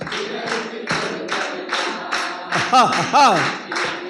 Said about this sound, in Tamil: நல்லா கைத்தட்டுமேன்